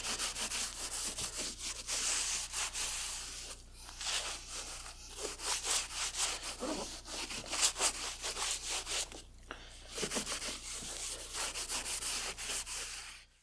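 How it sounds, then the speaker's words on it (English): Baby wipes rubbing mold off surfaces inside a V12 car that has sat for 20 years: soft, repeated close-up scrubbing strokes in irregular bursts with short pauses, quiet and with no talking. "And I'm just using some baby wipes."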